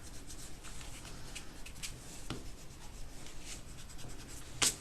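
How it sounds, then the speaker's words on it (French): An eraser rubs out pencil guide marks on a handmade paper card, a faint, soft scrubbing in short strokes in a quiet room that ends with a brief, sharper scrape. "Il ne vous reste plus qu'à gommer vos petits repères"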